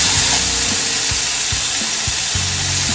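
Bok choy tossed in a hot pan with oyster sauce and soy sauce, a steady loud sizzle and hiss running throughout with repeated soft scraping strokes of the stirring utensil.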